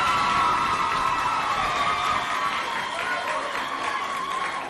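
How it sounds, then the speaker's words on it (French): Applause from a school audience for a girl who just sang at an inter-school talent show in Sarh, a steady broadband wash of clapping and crowd noise that fills the whole moment without a break. "J'aimerais qu'on applaudisse très fort pour elle."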